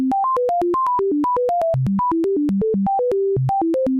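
A computer-generated tune written in Python code, made of rapid pure electronic tones hopping in pitch in a steady even rhythm, loud and alone.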